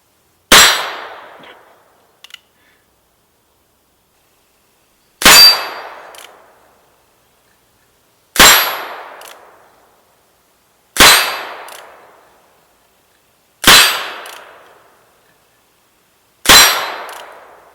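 A Ruger Bearcat Shopkeeper .22lr revolver fires subsonic rounds: six sharp, loud cracks with short ringing tails, unevenly spaced over several seconds, plus a faint metallic click in the quiet between the first two shots.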